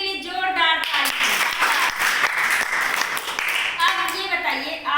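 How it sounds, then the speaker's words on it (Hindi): Audience at a children's quiz game show in Rajasthan breaking into several seconds of dense, loud clapping, framed by a host's voice before and after. "तो इनके लिए जोरदार ताली।"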